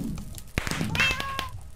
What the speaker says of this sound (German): Und die ganze Zeit miau. Miau.